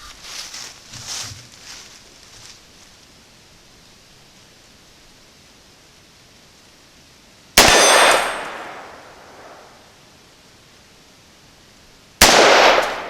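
Two sharp, loud Ruger AR556 rifle shots fired with frangible ammunition at a steel gong on an outdoor range, each crack followed by a ringing decay, several seconds apart after a quiet stretch with faint distant noise.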